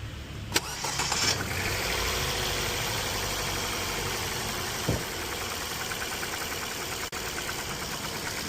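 A car engine runs steadily at idle with a faint irregular knocking beneath the hum, after a brief start-up burst, with no talking.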